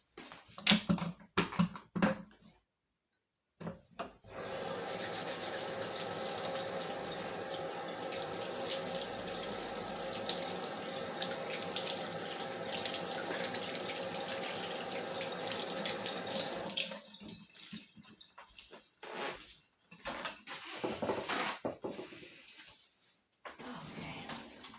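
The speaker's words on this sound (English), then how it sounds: "let me go wash my hands so we can get started" Tap water runs steadily into a sink as hands are washed before cooking homemade chili, a continuous close splashing hiss that lasts about thirteen seconds, framed by brief knocks and handling noises.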